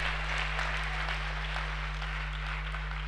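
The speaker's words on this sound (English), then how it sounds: "Give the Lord a clap offering all over this house" A church congregation claps together as an offering, a dense, continuous patter of many hands filling the room over a low steady hum.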